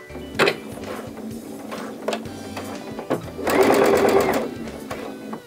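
A sewing machine stitching the fabric lining of a zipper pouch, with a fast buzzing run of stitches midway and scattered clicks and handling sounds before and after.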